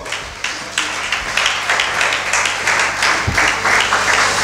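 A church congregation applauds and cheers in acclamation of God at a Christian wedding service, dense continuous clapping with crowd voices, loud and sustained throughout without pause.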